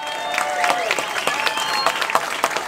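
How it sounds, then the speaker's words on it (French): An audience at a Quebec rally applauds Gisèle, steady dense clapping from a crowd with some cheering throughout, loud and close. "Une belle main d'applaudissements, s'il vous plaît, pour Gisèle."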